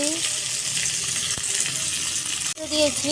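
Chopped tomatoes fry in a pan with a loud, steady hiss and crackle that fills the moment, heard close up, with one short break near the end.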